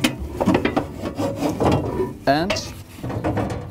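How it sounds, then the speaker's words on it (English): A 3D printed build is set into a cleaning station with wooden-sounding knocks, sliding scrapes and a short ratcheting rasp, heard close and mixed with brief talking. "So what we do is placing the build in the cleaning station"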